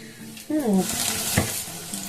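Vegetable Manchurian balls drop into oil heated on a high flame, giving a bright, close, continuous hiss and crackle while a voice speaks briefly over it.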